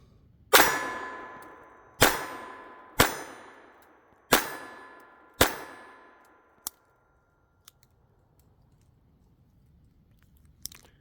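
A Walther TPH pistol fires at a steel target, giving five loud, sharp shots about a second apart, each ringing out with a metallic ding, then a few faint clicks and quiet handling noise.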